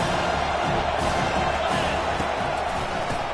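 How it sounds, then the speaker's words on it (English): A stadium crowd in a Madden football video game roars on a third-down defensive stand, a loud, continuous wall of cheering noise that holds steady throughout. "Decibels rising as the crowd gets behind this defense on 3rd down."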